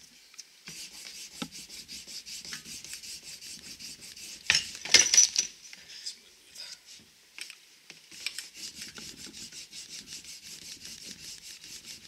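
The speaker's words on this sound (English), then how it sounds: "Got some white polishing compound here." White polishing compound rubbed onto the rough side of an old leather belt, a steady dry rasping that repeats in quick strokes throughout, with a brief louder scuffing burst midway.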